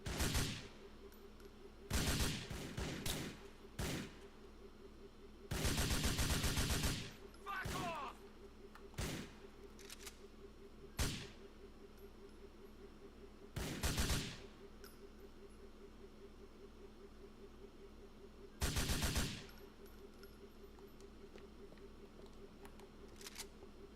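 Bursts of assault rifle fire in Grand Theft Auto IV, several short, sharp volleys spread unevenly over a quiet, low background, with brief gaps and single cracks between the louder bursts.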